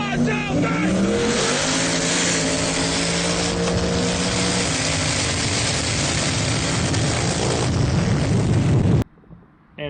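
Black twin-turbo 5.0 drag car at a TX2K race event roaring through a loud full-throttle run with rising gear-change tones for about nine seconds, then cutting off abruptly to quieter crowd noise.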